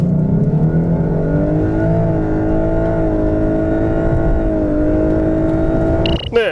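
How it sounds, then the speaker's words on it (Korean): A 2019 Lexus LS500h AWD hybrid sedan accelerates hard, its engine drone climbing steadily in pitch for several seconds, loud and close, then ending in a short burst of shifting noise. "LS 500H 과연 얼마만큼의 가속 성능을 보여주는지 한번 확인해 볼까요?"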